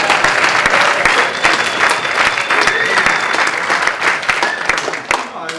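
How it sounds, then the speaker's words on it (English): A packed room of attendees at a charity foundation session breaks into loud, sustained applause and cheering, steady and close throughout before tapering off briefly at the end. "It says here, pause for raucous cheering and applause."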